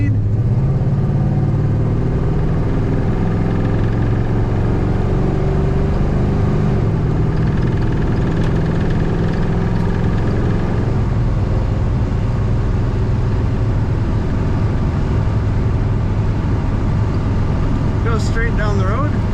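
A 1966 Pontiac GTO engine accelerating on the road, a loud continuous mid-pitched drone with rising revs and road rumble throughout, heard from inside the car.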